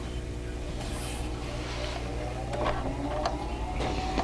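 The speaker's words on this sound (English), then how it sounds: "So first thing I'm going to do is to sew all of my petals together. Okay, so I'm just going to sew the tops of these" A sewing machine runs in a steady, continuous mechanical whir with a rapid rhythmic stitching texture as it sews the tops of quilt flower petals, the hum constant and moderately close throughout.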